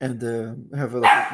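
A dog barks a few times close by in a home during an online community meeting, the barks overlapping a man's speech.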